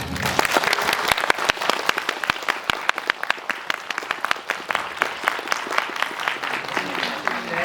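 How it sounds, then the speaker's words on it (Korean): An audience at a movie stage greeting for an animated film in Seoul claps, a dense, lively applause with sharp individual claps standing out, continuous throughout. "마지막으로 박수로 보내주시면 감사할 것 같습니다."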